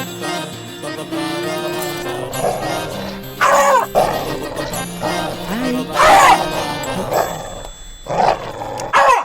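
Dog barking and growling in a Telugu movie scene, loud bursts of barks over a music score, with some voices present.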